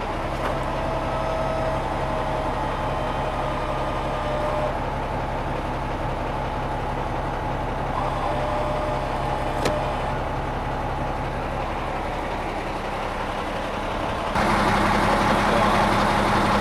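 An RV engine runs steadily at a constant low rumble as the vehicle drives slowly through an RV park, staying close and continuous, with a brief thump partway through and a slightly louder surge near the end.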